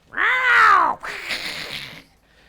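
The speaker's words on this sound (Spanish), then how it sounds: "un gato negro, muy feo, que siempre asustaba a la gente con su maullido" A black cat lets out one long, loud, drawn-out meow that rises and falls, followed by a rougher, breathier trailing cry.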